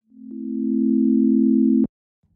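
A steady pure sine tone from the Nambu synth app holds for about a second and a half, swelling in gently at the start and cutting off sharply with a small click, then near silence.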